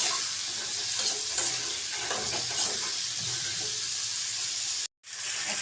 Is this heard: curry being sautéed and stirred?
yes